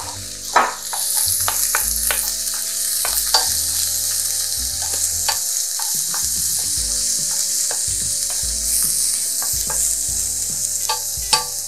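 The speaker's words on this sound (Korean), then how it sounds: "식용유 1숟가락 더 들어갔습니다. 양념을 볶아줄 거예요. 마늘, 양파 순으로." Garlic and onion frying in cooking oil, with a loud continuous sizzle throughout, broken by frequent stirring clicks and scrapes of a utensil against the pan, close up and with no voices.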